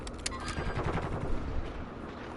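A Vector submachine gun in the Call of Duty MW2 beta fires in a fast rattling burst of rapid shots, steady and dense, with a few sharper cracks at the start and no one talking.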